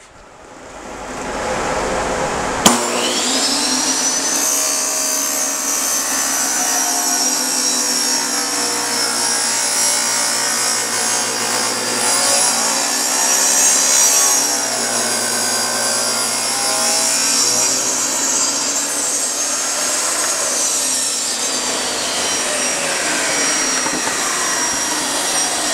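A power saw cuts a wooden piece square for a star-shaped craft project. After a brief start it holds a loud, continuous, harsh whine that drifts slightly in pitch for over twenty seconds without a break.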